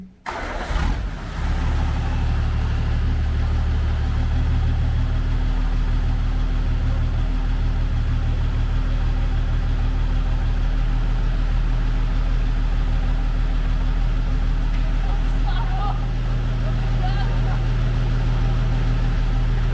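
A Chevrolet Silverado pickup, restarted after standing six years, runs with a steady low engine rumble and drone that stays loud and constant throughout as it pulls off in first gear.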